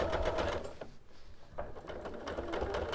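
A sewing machine stitches with a free motion ruler, running in fast, steady bursts of mechanical clatter with a short pause partway through, close and clear.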